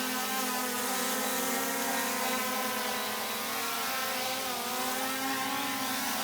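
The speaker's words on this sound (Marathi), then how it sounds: "अशा प्रकारे ड्रोन खाली आलेला आहे." A camera drone descends to land nearby, its rotors giving a steady, close, buzzing whine with shifting pitch throughout, no voices over it.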